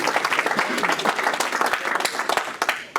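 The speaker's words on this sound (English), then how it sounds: "Nice round of applause for our birthdays." Rotary club members applaud together for birthdays at a meeting, a steady round of dense clapping that fills the room for about three seconds before tapering off at the end.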